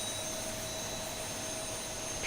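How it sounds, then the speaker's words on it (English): Engine number 2 of a Boeing 737-800 spools up during start in X-Plane 11, giving a steady jet roar with a high whine and broad rushing noise that stays even throughout, with no voices. "With great view, we can see engine number 2 starting."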